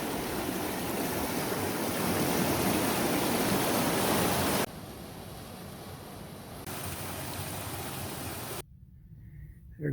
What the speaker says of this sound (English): Got a nice waterfall we're closing in on.